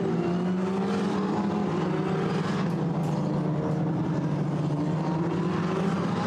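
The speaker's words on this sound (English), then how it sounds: "Cars then now turn down through turn 6, that's Saint-Baume, and that in turn will bring them onto the Mistral straight" Formula Renault Eurocup race cars at Paul Ricard circuit drive through corners, with a loud, continuous engine drone whose pitch shifts as the cars brake and accelerate.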